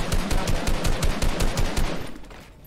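Rapid bursts of video game gunfire from a golden shotgun, a fast string of loud, evenly spaced shots that thins out and fades toward the end.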